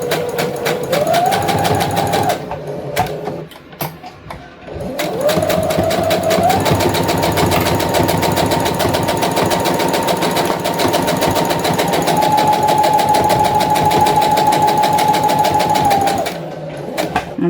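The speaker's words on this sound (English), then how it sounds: "I'll do a little back stitch." A sewing machine stitches a fabric lanyard in loud, steady runs, whirring with a rapid needle rhythm, pausing briefly twice before a long continuous stretch of stitching.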